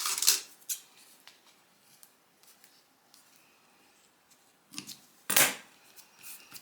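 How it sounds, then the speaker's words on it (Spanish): Scissors snip through threads on a handmade craft folder, giving a few sharp close cuts separated by quiet pauses, with the loudest snips near the start and end. "Y cuando ya tengo ahí fijados los hilos, simplemente corto con unas tijeras."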